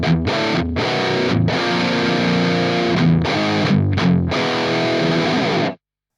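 High-gain electric guitar with a low-cut EQ near 100 Hz and the top end rolled off, playing tight palm-muted chugging riffs, loud and distorted in choppy bursts with brief gaps before stopping abruptly.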